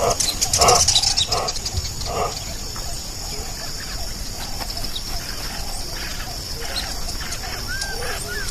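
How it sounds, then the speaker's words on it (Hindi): Monkeys screeching alarm calls across the savanna: a burst of sharp, loud cries near the start, then scattered distant calls over a steady insect drone. "बंदरों के चिल्लाने की आवाजें पूरे सवाना में किसी अलार्म की तरह फैलकर उसे घबराहट से भर देती हैं।"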